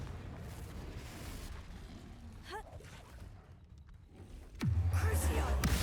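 Confringo blasting spell in Hogwarts Legacy erupts as a deep, loud boom near the end, leaving a sustained low rumble after quieter game ambience and a brief whooshing streak.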